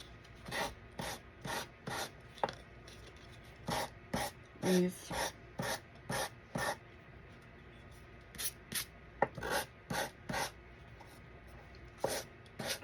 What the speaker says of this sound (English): I'm sanding in one direction.